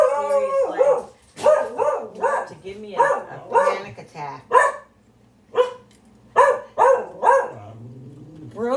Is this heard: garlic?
no